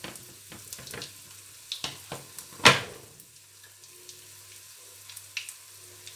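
Aloo gobi chapli kabab patties are laid into hot oil for shallow frying, with a few soft placing taps, one sharp loud hiss as a patty goes in, then a quieter sizzle with scattered small pops.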